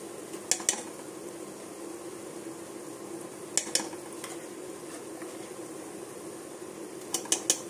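Mutton keema fries with ginger garlic paste in a pan, giving a low, steady sizzle. A spoon scrapes and clinks against the pan now and then.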